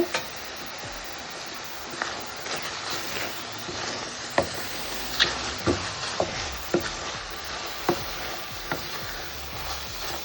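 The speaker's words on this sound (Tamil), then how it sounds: "இதை நல்லா கலரி கொடுங்க." Mushroom fried rice with black pepper being stirred in a hot pan, a steady sizzle broken by repeated sharp scrapes and knocks of the spatula against the pan, close and alone with no talking.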